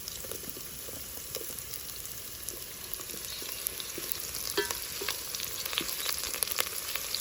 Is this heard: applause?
no